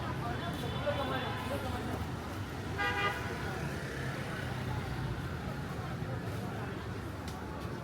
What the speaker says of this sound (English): Back on the bustling street, the world feels alive. Motorbikes weave through traffic in a chaotic yet graceful ballet.